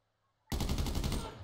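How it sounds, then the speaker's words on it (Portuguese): A sudden burst of rapid automatic gunfire from GTA V breaks a near-silent moment, several quick shots in a tight rattling series, loud and close. "De onde tá vindo esses tiros?"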